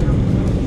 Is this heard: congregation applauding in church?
no